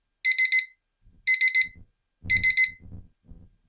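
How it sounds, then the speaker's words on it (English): A digital kitchen timer gives three rapid high-pitched beeps, then a pause, repeated three times. Low thuds and clunks sound beneath the later bursts. "and it's three beeps."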